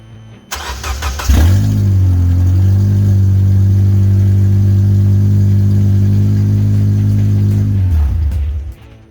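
A 2004 Honda Accord with a K24 engine and six-speed manual cranks, catches and settles into a loud, steady idle heard up close, then shuts off after several seconds.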